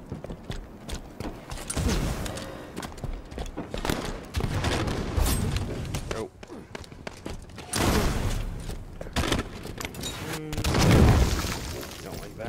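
Rapid gunfire from an assault rifle in the video game Halo 5 Infection mode, bursts of dense crackling shots and impacts repeating throughout, fairly loud, with a voice talking over parts of it.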